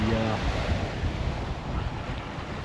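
Big Atlantic ocean waves of about 4 to 5 metres surge around a sailboat running under genoa, a broad roaring wash mixed with wind noise across the microphone, steady and close throughout.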